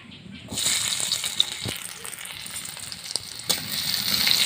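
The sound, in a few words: chopped onions sizzling as they fry in oil in a wok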